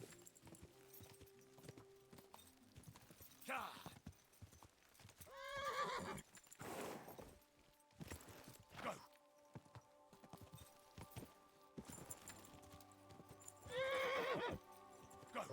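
A horse in the medieval video game Kingdom Come 2 gives several loud, shrill neighs, with clip-clopping hooves and game ambience between them.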